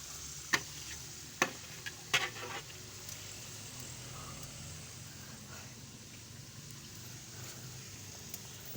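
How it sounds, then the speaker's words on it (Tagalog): Bananas fry in a pan with a soft, steady sizzle while a utensil stirs them, making a few sharp taps and scrapes against the pan early on, faint and close throughout. "Sandok-sandukin para hindi masunog"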